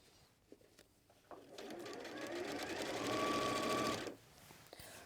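A sewing machine stitching seams in a sewing studio, heard close after a few soft clicks, its needle running in a steady, fast whir for about three seconds before stopping, with no talk.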